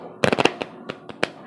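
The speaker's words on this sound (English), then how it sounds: "I don't like hearing that gunfire too much" Gunfire from a crime drama scene: a rapid cluster of sharp cracks followed by a few scattered single shots, loud and distinct against a quiet background.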